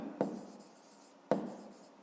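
Pen on paper while writing out a fifth-grade maths solution: two distinct scratchy strokes close by, each trailing into faint scribbling.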